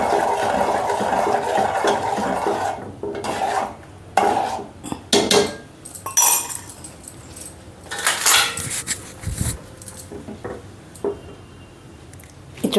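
A spoon clatters and scrapes around a steel vessel as curd is mixed into multimillet malt, with uneven bursts of clinking and knocking separated by short quiet gaps, close and fairly loud, no talk.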